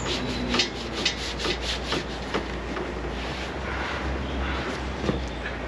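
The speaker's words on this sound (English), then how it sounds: "I'm just going to use a sponge and I'm going to use this rougher side just to kind of really get in there" The rough side of a sponge scrubs black dye off a part of a Ferrari 348 under restoration, producing a rhythmic series of close, gritty rubbing strokes, about two per second, that fade into steadier scrubbing.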